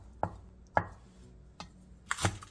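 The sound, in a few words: knife slicing crab sticks diagonally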